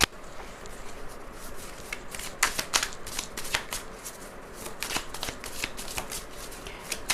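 Tarot cards are shuffled by hand in a quiet room, close and soft, with repeated riffling bursts and light snapping flicks of the deck throughout.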